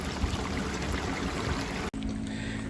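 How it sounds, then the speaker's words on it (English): Mucky water drains from the tank of a Jayco 27BHB RV while it is flushed during winterizing, making a continuous close rushing, trickling pour, broken by a brief dropout near the end before the flow resumes. "right now I don't see nothing but just a little mucky water coming out"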